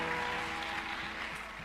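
An audience in a church applauds, a soft, steady patter of many hands clapping together, heard from a distance.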